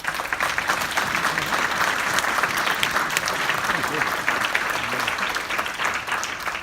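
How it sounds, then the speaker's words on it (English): A crime-fiction awards audience breaks into sustained, dense applause for a winner, a steady loud wash of many hands clapping without pause. "Thank you very, very much indeed for your applause"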